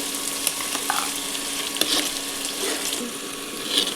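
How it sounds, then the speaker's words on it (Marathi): Raw onion and tomato sauté in a pan with a dense, steady sizzle, close and fairly loud. A few light utensil taps punctuate the hiss. "आपण परतून घ्यायचे आणि आपण त्यात कच्चा कांदा आणि टोमॅटो टाकलेला आहे"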